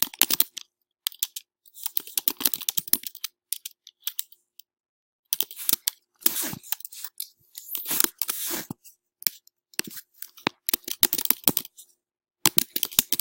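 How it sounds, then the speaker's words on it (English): Bursts of computer keyboard typing while entering quiz questions into a Plickers assessment set, clicking in irregular close-up runs with several short pauses between them. "And begin typing your questions."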